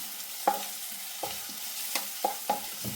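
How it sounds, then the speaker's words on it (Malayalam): Onions frying with salt in a pan and being stirred, a soft sizzle under several distinct spatula scrapes and knocks spaced about a second apart. "ഇനി നന്നായി ഇളക്കി കൊടുക്കണം."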